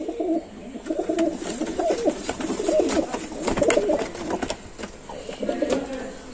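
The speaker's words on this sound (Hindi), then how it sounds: "जबरदस्त सारे कबूतर," Pigeons coo continuously in a dense, layered chorus, about fifteen birds close by in a home loft, with a few sharper chirps and rustles mixed in.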